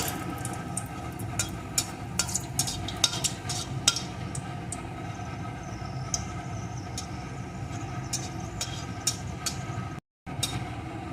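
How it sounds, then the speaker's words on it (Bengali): Dried red chili frying in oil in a pan, a low continuous sizzle with scattered sharp clinks and scrapes of a utensil against metal, close and fairly quiet, briefly dropping out near the end. "লঙ্কাটাকে একটু ভালো করে ভেজে নেব"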